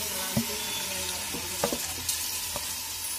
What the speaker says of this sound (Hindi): गाइस अब हम इसमें अपने डालेंगे चावल